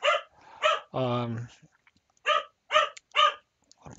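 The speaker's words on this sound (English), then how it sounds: "I don't know if you can hear my dog barking in the background or not." A pet dog barks in the background during an indoor software installation walkthrough, a few short sharp barks between stretches of a man's speech, with one longer harmonic yelp-like burst near the middle.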